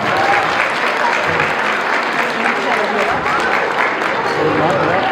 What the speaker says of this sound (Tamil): அவங்க எல்லாருக்கும் சேர்ந்து ஒரு கைத்தட்டல் கொடுத்துடலாமா?